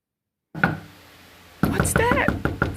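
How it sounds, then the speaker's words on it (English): Knocking on a door, heard as a short cluster of sharp raps, fairly close and loud, following a brief earlier tap; a voice speaks around the knocks. "Someone knocking. I think someone at the door."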